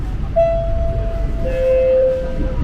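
A KRL commuter train pulls into platform 1 at Duri station, giving a sustained two-tone horn or whistle over low rumbling rail noise, loud and close.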